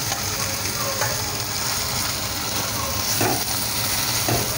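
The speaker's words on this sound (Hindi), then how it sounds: "अब इसमें भिंडी भी हम डाल देंगे।" Okra fries in a pan with onion, half-cooked tomato and green chilli, a loud steady sizzle close by, broken by a few scraping stirs of a spoon.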